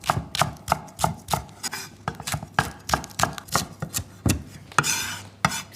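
A knife slices spring onions on a chopping board in a home kitchen, making a steady rhythm of crisp, close taps, about two per second, with no talk.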